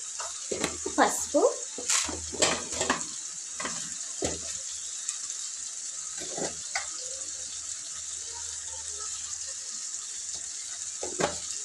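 Fried okra drops into a simmering tamarind pulusu stew in a pan, giving a steady hiss and sizzle with clustered splashes and stirring clatters early on, then a continuous bubbling fizz.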